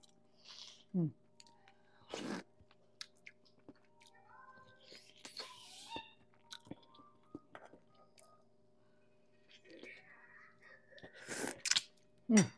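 Bone cartilage being chewed close to the mic, giving sharp crunchy bites spaced out with quiet gaps between them and soft mouth sounds.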